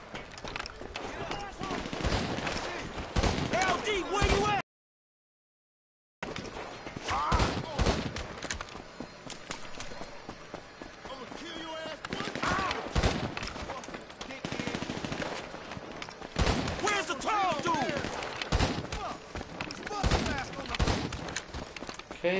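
Sustained automatic gunfire in GTA V, dense overlapping bursts of rapid shots running nearly throughout with a brief silent gap, loud and close, with voices talking over the shooting.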